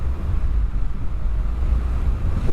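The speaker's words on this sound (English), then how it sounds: "Wow, wind." Wind roars steadily past the microphone of a rider on a Harley motorcycle, a loud, constant low rumble with no voices.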